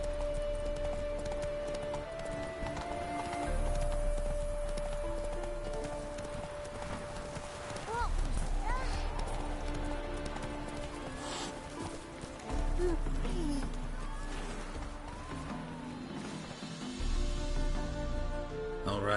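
Roach the horse gallops in The Witcher 3: Wild Hunt, with rhythmic hoofbeats that run steadily under game music and ambient sound for the whole stretch.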